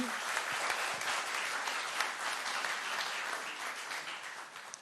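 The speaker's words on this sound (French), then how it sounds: "Vous pouvez l'applaudir." Spectators at a sportsperson-of-the-year awards ceremony applaud a trophy winner, continuous moderately loud clapping from a crowd lasting the whole span.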